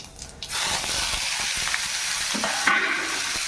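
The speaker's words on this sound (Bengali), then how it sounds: "পেঁয়াজ ভাজা হয়ে গেছে" Onions frying in a pan at home, a close, continuous sizzle and hiss that starts abruptly and keeps going steadily without talk.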